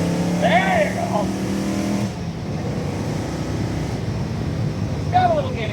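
A 1967 fastback Ford Mustang engine droning steadily while driving, a loud low rumble from inside the car that keeps going throughout, with voices talking over it at the start and end.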